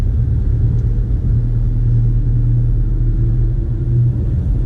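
A Porsche creeps along in second gear at about 7 mph through a multi-storey car park, giving a steady, loud low engine rumble that holds constant throughout with no voices.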